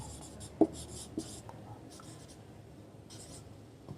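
Marker or chalk strokes scratch across a board during a chemistry lesson on the periodic table. The bursts are short and light, with a couple of taps and faint room noise in between.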